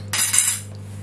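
A utensil mixes tart dough ingredients in a bowl, giving a brief, bright scraping clatter of metal against the dish over a steady low hum.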